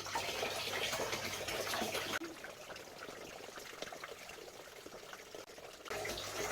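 Apple juice poured for homemade cider gives a steady, soft liquid rush that cuts off abruptly about two seconds in, continues more quietly, then swells again near the end.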